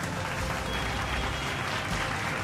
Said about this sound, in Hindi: जोरदार तालियों से स्वागत करते हैं हमारे पहले अवार्डी